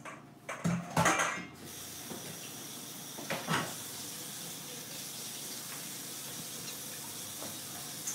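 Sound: rinsing vegetables under running water in a sink

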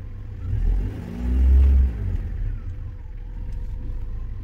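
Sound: car engine revving during diagnostic test

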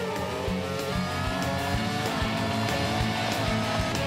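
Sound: animated race car overtaking in a race

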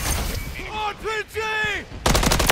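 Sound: RPG fire and explosion in the video game Call of Duty Modern Warfare 3

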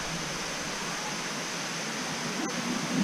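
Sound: waterfall at Kuang Si Falls, Laos

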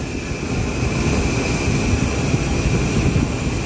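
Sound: car engine running after oil cooler line replacement

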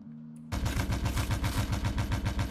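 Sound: radar-aimed turret firing in Stormworks video game

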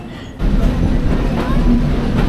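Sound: shuttle train between Rajbari and Kushtia

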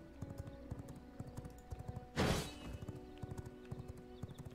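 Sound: horse galloping in the V Rising video game

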